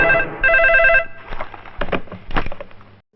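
An old-style telephone bell rings in a dramatic Indian movie scene, two loud bursts close together, followed by muffled rustling and brief movement sounds.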